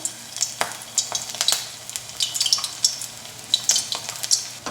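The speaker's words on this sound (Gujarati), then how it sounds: "અહીંયા તેલ ગરમ થઈ ગયું છે તો તેમાં આપણે મૂઠિયા તળવા માટે મૂકતા જઈશું" Muthiya dumplings going into hot oil and frying, a soft bubbling sizzle with scattered crackles and pops, close and fairly quiet, with no talking.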